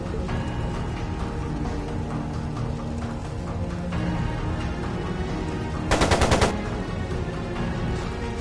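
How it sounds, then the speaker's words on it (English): Machine gun fire in the video game Trails of Cold Steel 2, a short rapid automatic burst of clattering shots that cuts through a steady in-game background of music and ambience. "It sounded like a machine gun."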